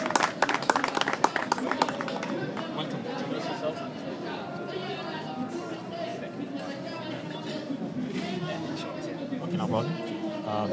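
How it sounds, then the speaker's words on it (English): An audience at an English language club meeting claps for two guests called up front; a burst of clapping opens, then fades into crowd chatter and talking voices that continue throughout. "very hard clap"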